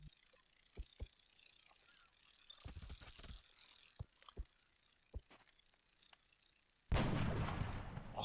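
Gunshots in XCOM Enemy Within, a scattered string of sharp, fairly quiet clicks and cracks over a low background, then a sudden loud, sustained blast that fills the final second or so.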